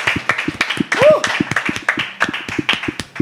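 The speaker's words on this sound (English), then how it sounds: "A round of applause for that." Sparse, distinct hand claps ring out from a small audience at a blockchain meetup, loud and close, over a voice that keeps talking and one cheer or whoop.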